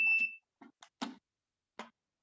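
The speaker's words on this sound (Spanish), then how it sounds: "Ahí sonó la alarma." A handheld gas concentration meter sounds its alarm: a brief electronic tone followed by a few short, faint, irregularly spaced bleeps, with quiet gaps between them.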